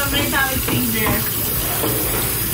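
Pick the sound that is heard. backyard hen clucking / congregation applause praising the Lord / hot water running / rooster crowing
hot water running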